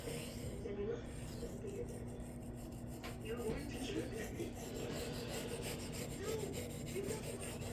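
A steel knife blade is rubbed over a cheap Chinese whetstone in steady, repeated rasping strokes with an even rhythm that stays close and moderately quiet throughout.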